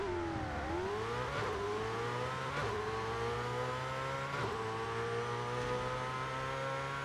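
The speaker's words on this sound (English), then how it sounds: "Very nice sounding V8 that it comes with" Ferrari J50 V8 in the Forza Horizon 5 video game, held near 5,000 RPM on the clutch and then launched, with a steady revving drone climbing through rapid gear shifts, each marked by a brief dip, loud and continuous.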